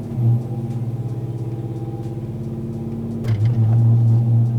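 A Texas Speed Stage 4 cammed 5.3 V8 in a Silverado runs on a chassis dyno in second gear, a loud, lumpy rumbling engine note that steadily builds, then surges harder near the end of the pull.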